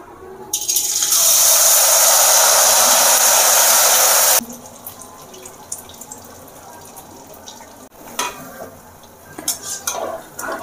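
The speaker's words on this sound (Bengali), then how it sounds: "এক এক করে মালপোয়াগুলো আমরা ভেজে নেব।" Malpua batter fried one at a time in hot oil for a Bengali sweet, a loud steady hiss filling the first four seconds, then dropping to a quieter crackle with scattered clinks and scraping.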